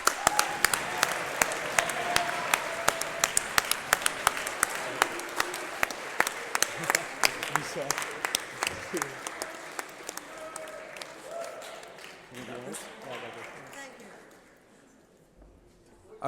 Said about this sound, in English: hope you can all join me in a large round of applause for our conference faculty supervisor, Ms. Rima Wada Parsons.